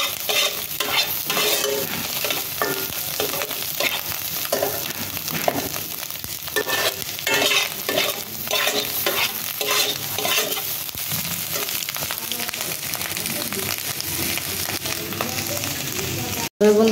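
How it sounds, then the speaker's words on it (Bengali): Potatoes and egg frying in a pan, stirred continuously with rapid scraping and crunchy stirring strokes over a loud, dense sizzle, close by, ending with a brief cut to silence and a short knock. "ভালো করে নাড়াচাড়া করে নেব"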